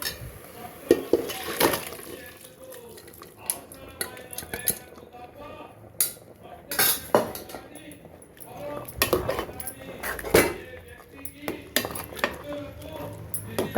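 Cooked mutton keema scraped and stirred into masala in a pan, with repeated metal spoon clinks and scrapes against the pan in an irregular rhythm, close and moderately loud, with faint voices in the background.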